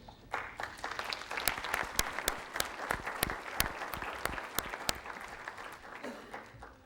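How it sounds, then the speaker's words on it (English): Lecture-series audience at a college claps briefly after a speaker is introduced, a thin, fairly quiet spatter of individual hand claps with sharp separate strikes. "I know why you're clapping."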